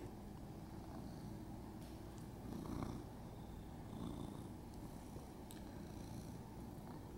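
A house cat purrs softly and steadily, a low continuous rumble close by with no talking.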